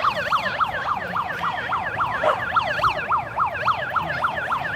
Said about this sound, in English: They went with the sirens.